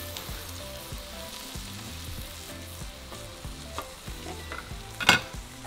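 Butter and herbs sizzle steadily on top of pan-roasted filet mignon fresh from the oven, a continuous close frying hiss with a brief sharper crackle near the end.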